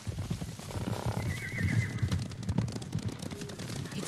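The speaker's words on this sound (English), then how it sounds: "horses. They're coming for us." Horses neighing and galloping in the Ghost of Tsushima video game, a whinny rising over a rumble of hooves that grows louder and nearer through the clip.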